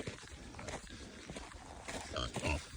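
A pig on a farm in deep frost grunts and snuffles close by in a run of short, rough oinks, louder near the end, with movement noises around it.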